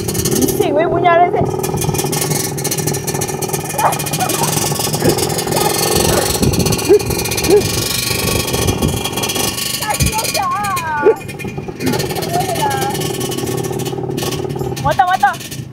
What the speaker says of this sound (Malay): Bising weh bunyi RZ